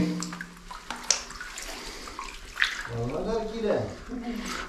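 Water splashing and sloshing around someone wading inside a well, with a person talking over the movement.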